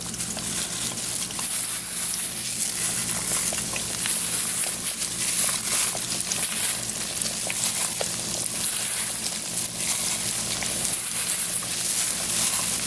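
Double breaded chicken wings fry in hot grease, a loud, steady crackling sizzle with dense popping that continues evenly throughout, close and alone without voices.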